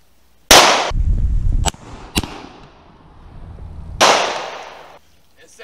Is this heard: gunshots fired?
yes